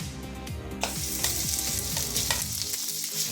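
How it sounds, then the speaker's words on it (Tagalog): Pork fat frying in a hot pan, a close, steady, loud sizzle and crackle lasting throughout with no talking. "mainit na tayo na kawali dito. So ang gawin natin is unahin natin yung taba ng pork"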